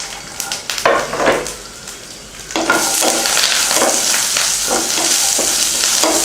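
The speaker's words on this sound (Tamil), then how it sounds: "அதில் மிளகாய், புளி, பூண்டு, வெங்காயம், மல்லி, கருவேப்பிலை போட்டு வதக்கிக்கலாம்" Chilli, tamarind, garlic, onion, coriander and curry leaves sautéing in a little oil for chutney: quiet stirring at first, then a loud, steady sizzle fills the pan with scraping strokes throughout.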